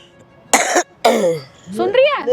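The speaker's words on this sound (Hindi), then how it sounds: "तेरी इतनी तबीयत आ खराब गई है खांसी आ गई।" A woman coughs several times in close, harsh bursts with short pauses between them, followed by a throat-clearing rasp, heard clearly with no background noise.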